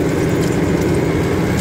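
A modified Mahindra tractor fitted with new blades runs at 2100 RPM, its diesel engine a loud, close, continuous throbbing rumble with no break.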